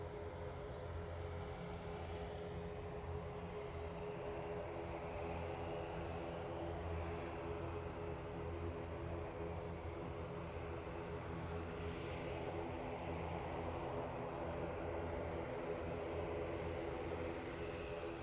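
A jet airliner taxis slowly at Manchester Airport, its engines giving a steady, distant whine and rumble that holds evenly for the whole stretch.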